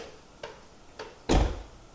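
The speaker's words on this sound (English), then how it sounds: "we're going to shut the door" A Tesla Model 3 door swings shut with a solid, loud thunk, preceded by two faint clicks, close by and without talk.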